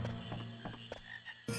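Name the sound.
frog croaking in Final Fantasy IX, video game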